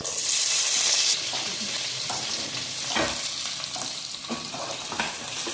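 Onions fry in a pan for vegetable biryani, a close, continuous sizzle broken by several stirring scrapes and knocks, with no voices.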